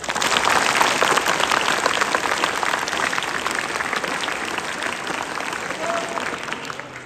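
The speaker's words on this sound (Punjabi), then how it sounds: "ਉਸ ਤੋਂ ਪਹਿਲਾਂ ਇੱਕ ਜ਼ੋਰਦਾਰ ਤਾੜੀ ਜ਼ਰੂਰ ਲਾਓ" An outdoor street-play audience breaks into loud, dense applause that fills the whole stretch, a steady wash of many hands clapping that eases slightly toward the end.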